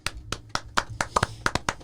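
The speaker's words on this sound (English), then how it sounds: "So first, claps for those 3." About ten quick hand claps ring out in an uneven rhythm, sharp and close, with no other sound between them.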